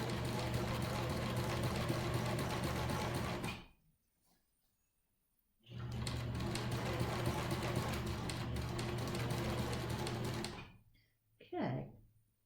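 A sewing machine stitches a 1-inch seam on a fabric face mask, two long, steady, loud runs of rapid motor whir with a pause between and a brief final burst.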